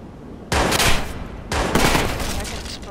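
Two loud, sharp bursts of rapid gunfire ring out about a second apart during a shootout in the video game Watch Dogs, with a thinner rattle of shots continuing between them.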